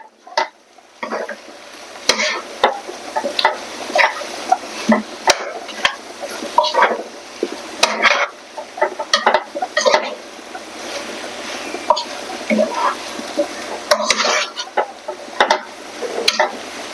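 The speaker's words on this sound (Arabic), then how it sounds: "هسه نخلي عليها البهارات، هذه البهارات، وشوية نقلبها" A spoon stirs a traditional Tunisian dish with spices in a pot, irregular scraping and knocking strokes close by over a soft sizzle, continuing for a long stretch.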